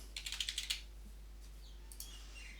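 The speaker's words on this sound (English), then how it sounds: "All you need to do is type in the email address here" A computer keyboard tapped in a quick burst of about eight close keystrokes while an email address is entered, then a few scattered clicks in a quiet room.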